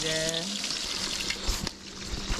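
Bacon frying in a pan at a campsite, a steady close crackling sizzle throughout with a brief tonal hum at the start and small clinks of stirring.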